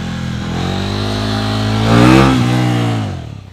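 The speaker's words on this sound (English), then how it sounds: "when the front tire is going back down, just before you touch the ground, add throttle, not full power, but add a bit" A big-cc motorcycle engine swells as throttle is added while landing a wheelie, a steady close mid-pitched drone rising to a revving peak and then easing off.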